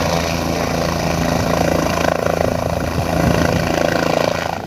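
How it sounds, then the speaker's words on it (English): Helicopter at a festival near a lake, a loud, steady rotor and engine drone that swells slightly, close by with no voices. "Go and get on this helicopter."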